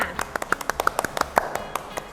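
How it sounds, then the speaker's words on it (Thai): About fifteen quick hand claps sound at a brisk, slightly uneven pace in a restaurant, fairly close and clear with a quiet background. "ปรบมือค่ะ"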